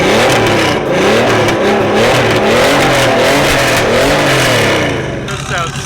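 Porsche 964 with its exhaust valve open, the engine revving loudly up and down in repeated surges close to the listener, with people talking over it.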